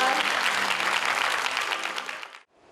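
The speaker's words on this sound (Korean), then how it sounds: "여러분 다시 한번 박수 부탁드립니다" Loud, sustained applause from an audience at a student award ceremony, dense clapping that fades and cuts off near the end.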